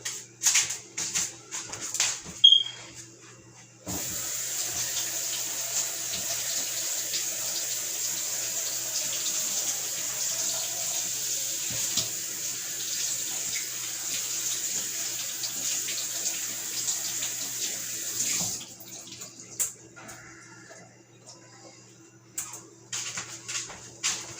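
Produce rinsed under a running kitchen tap during smoothie prep, a steady hiss of flowing water lasting about fifteen seconds, with scattered handling knocks and clicks before the flow starts and after it stops, and no voices.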